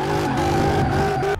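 A tuned 1100 hp drift kart engine in Car Mechanic Simulator 2018 revs loud and steady, with strong harmonic drone shifting pitch slightly through short throttle blips, close and continuous with no talk.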